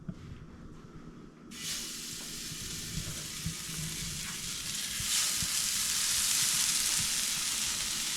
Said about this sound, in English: I am putting this in the pan dry because there is a lot of bacon and fat in this sausage, so it'll render down